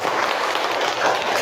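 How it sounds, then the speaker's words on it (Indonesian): A university class claps together at the end of a lesson, a short, loud, steady burst of close applause with no pause. "Oke, tepuk tangan buat kita semua."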